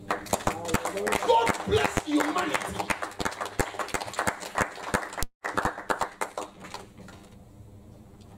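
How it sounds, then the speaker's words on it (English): A church congregation claps for Jesus during a sermon, with sharp, loud, rhythmic claps running through the first five seconds under a preacher's voice, then thinning out as the speaking continues. "Let's clap for Jesus."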